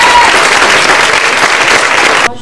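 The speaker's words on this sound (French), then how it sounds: "On peut applaudir." Audience at an eloquence contest final in Aix breaks into loud, dense applause after a speech, a sustained wash of clapping that cuts off abruptly at the end.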